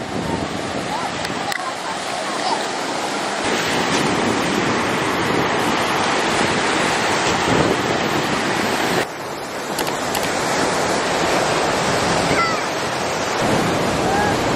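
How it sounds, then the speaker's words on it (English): Steady roar of surf washing onto Myrtle Beach, with wind buffeting the microphone and a brief dip in the middle before the waves continue. "Let's go to the beach, East. Let's go get a wave"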